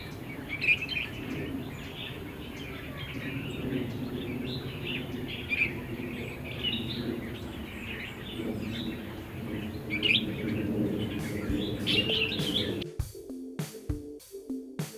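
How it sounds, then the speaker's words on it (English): Repeated bulbul calls and chirps ring out over steady background ambience, with a few louder, clearer notes rising above the mix. "I just can't help appreciate the look and sound of the bulbul."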